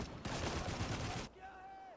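Rapid .30 caliber machine gun fire from the video game Spec Ops: The Line, a dense, loud burst of continuous shots lasting about a second before cutting off to quieter game ambience.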